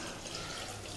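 Water pours into a pressure cooker holding clam meat with salt, turmeric and black pepper, a brief steady splashing rush with no voices.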